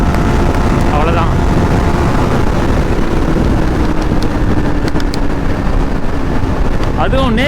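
Steady headwind roars over a Yamaha MT-15 motorcycle at about 137 km/h top speed, a loud, constant buffeting rush filling the whole stretch with engine drone beneath and brief whistling bursts near the start and end.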